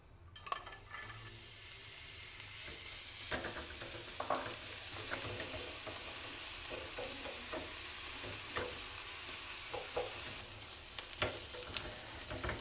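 Onion cooking in a dry non-stick pan without oil for Lebanese kebbe, a soft steady sizzle with frequent spatula scrapes and light clinks, fairly quiet and close.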